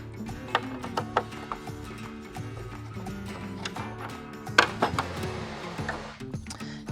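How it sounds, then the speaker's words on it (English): A Phillips screwdriver backs screws out of the front bumper area of a third-generation Toyota Tundra, giving repeated close ratcheting clicks and metallic turning sounds with brief pauses, no talking. "We're gonna use a Phillips screwdriver. We're gonna take out these two screws here."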